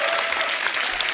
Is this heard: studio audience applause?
yes